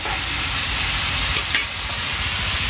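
Food fries in a pan with coriander and salt as it is stirred, giving a dense, continuous sizzle and hiss close up, with a faint scrape of the utensil partway through.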